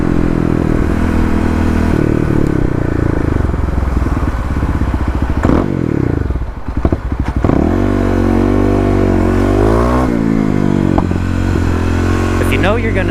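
A Honda XR 650 dirt bike passes by, its single-cylinder engine buzzing and revving with a rising and falling pitch among other traffic, while someone nearby talks over the engine noise.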